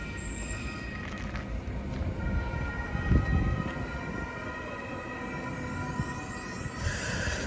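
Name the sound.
short one-car U-Bahn train arriving and stopping at station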